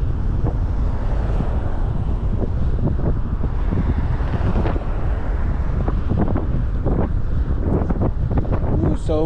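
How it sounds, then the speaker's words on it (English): Strong, cold wind blasting across an outdoor microphone, a loud, continuous rumbling roar with gusty texture throughout and no voices. "So windy, so cold."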